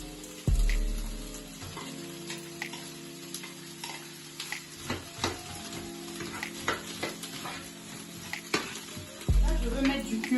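Peas tipped into a pan of vegetables already frying for a rice dish, then stirred; a loud sizzle swells as they hit the hot pan, followed by steady frying with scraping stir strokes and a second burst near the end.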